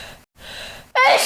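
A single sharp human sneeze, close and loud, preceded by a short intake of breath.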